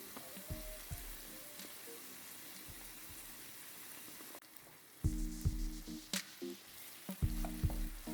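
Tomatoes fry in a pan for a healthy vegan quinoa mushroom dish, making a steady close sizzle broken by repeated louder knocks and scrapes from stirring in the second half.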